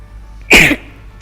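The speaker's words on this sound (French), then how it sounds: "Pardon, c'est pas beau de tousser en vidéo, mais bon." A single loud, close cough bursts out once from a man, brief and raspy, surrounded by near silence.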